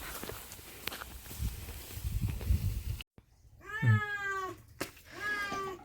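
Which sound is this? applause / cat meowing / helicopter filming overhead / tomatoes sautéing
cat meowing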